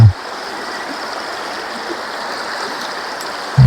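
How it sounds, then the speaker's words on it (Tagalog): A strong current of water rushes steadily at a fishing spot where a net is set, a dense, even roar that stays close and loud for the whole stretch, with no voices over it. "Malakas na yung agos ng tubig, malabo."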